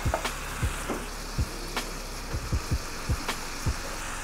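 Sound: dry white wine sizzling in a hot pan

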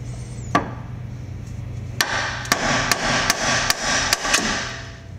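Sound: hammer whacks on a car lower control arm joint

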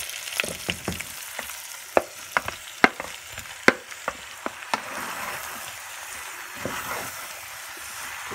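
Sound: vegetables frying with fennel and cinnamon in pan

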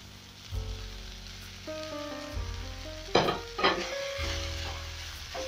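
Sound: capsicum frying in matumbo wet fry

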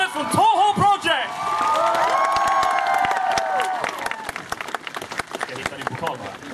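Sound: applause for cosplay contest winners

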